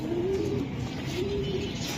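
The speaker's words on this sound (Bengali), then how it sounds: "এডি লং এর কবুতর" A racing pigeon of the Eddie Long line cooing close by, two soft low coos in quick succession over a quiet background.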